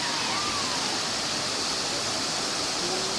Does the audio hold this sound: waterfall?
yes